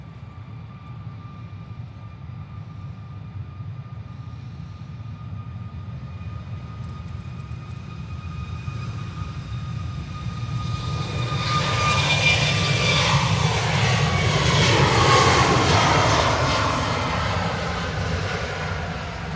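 A TUI Boeing 737 MAX jet at Manchester Airport grows from a steady distant whine into a loud, broad engine roar that peaks and holds, heard alone without voices.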